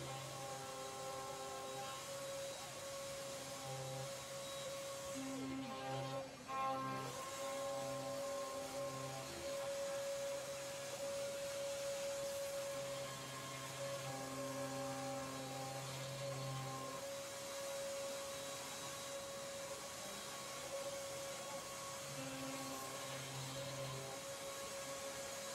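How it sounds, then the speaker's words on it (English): A CNC router roughs out the raised edges of a part with a continuous droning spindle whine, while changing cutting tones come and go underneath as it moves through the material. "So now it's currently milling out the raised edges in a rough manner."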